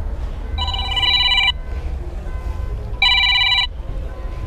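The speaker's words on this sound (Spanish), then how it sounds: "¡Ay! El teléfono, espérenme." Telephone ringing at a used-car lot with a 2013 model for sale: two electronic ring bursts, each about a second long and separated by a pause, sounding close and loud over low background rumble.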